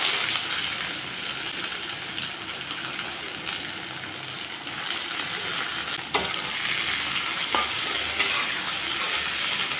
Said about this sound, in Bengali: মাছের চচ্চড়ি করার জন্যে সরষের তেলের উপরে ফোড়ন দিয়ে দিলাম কালো জিরা, দিয়ে দিচ্ছি পেঁয়াজ কুচি,